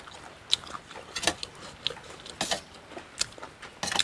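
Someone bites and chews a crunchy spicy Thai frog curry with vegetables, making close, crisp crunches and wet chewing clicks in an uneven rhythm with small pauses between bites.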